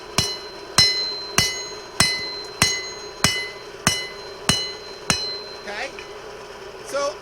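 Steel rebar is struck with the peen of a hammer in a steady, evenly spaced series of about nine ringing metallic blows, close and loud. A few quieter scraping knocks follow at the end.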